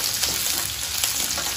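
Diced capsicum and paneer stir-frying in a hot pan for chilli paneer, a steady close sizzle with faint stirring underneath and no talk.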